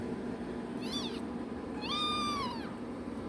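A kitten gives two soft, high meows, the second one longer and drawn out, over a steady low background hum with no talking.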